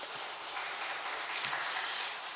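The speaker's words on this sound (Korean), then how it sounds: "박수 한번 치겠습니다." A church congregation claps together in a steady, even wash of applause filling the hall, moderately loud and continuous with no voices over it.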